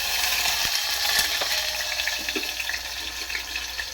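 Fenugreek leaves with cumin and mustard seeds fry in a pan, giving a bright, continuous sizzle with small crackles and pops, close and fairly loud, without speech.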